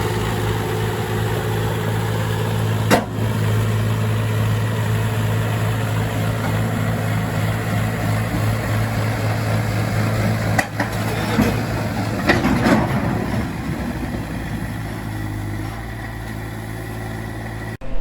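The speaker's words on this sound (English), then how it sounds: "Right, so we got the digger loaded up." A digger's engine runs steadily at a low, rumbling idle while it is driven up the ramps onto a trailer. A few clanks and a burst of louder working noise rise toward the end.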